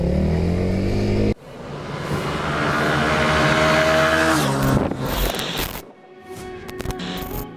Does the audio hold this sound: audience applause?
no